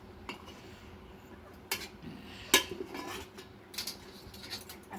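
Rice is served onto a plate at home, with soft scrapes and a few sharp clinks of a spoon against the dish over a low background hiss. The sounds are faint and sparse, with several distinct taps scattered across the moment.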